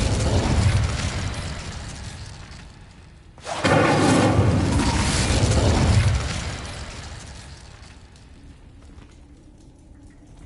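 An Incendio fire spell cast in a Harry Potter video game, a loud roaring whoosh that erupts suddenly and rumbles for a couple of seconds before dying away, with a softer rumbling wash leading in and fading after.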